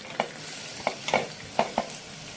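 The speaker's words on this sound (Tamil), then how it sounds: "இப்போ நான் வெட்டி வச்ச வெங்காயத்தை போட்டுக்கிறேன்." Chopped onions fry in a pan with a few distinct scraping stirs, spaced unevenly over a soft steady sizzle.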